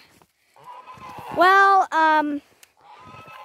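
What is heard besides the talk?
ducks and geese calling in a garden enclosure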